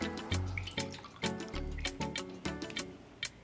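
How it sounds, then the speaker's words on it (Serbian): Water poured into a large baking pan under a roasting rack, heard as a rhythmic series of drips and splashes, close and fairly quiet, with a tonal ringing from the metal. "Zatim ću u pleh sipati 100 ml vode."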